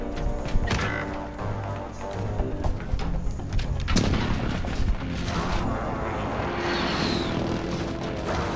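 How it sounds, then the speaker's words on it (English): Explosions from an enemy precision airstrike in Call of Duty: Modern Warfare, a run of heavy booms, crashes and rumbling impacts with clattering debris, loud and dense over game ambience. "Enemy precision airstrike, take cover."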